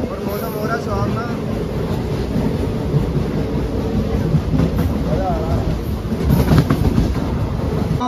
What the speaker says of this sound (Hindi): ये देखो गाइस लोकल ट्रेन का सफर दिखा रहे हैं आपको